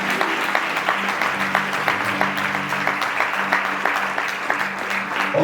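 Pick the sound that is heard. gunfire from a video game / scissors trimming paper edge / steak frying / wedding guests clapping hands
wedding guests clapping hands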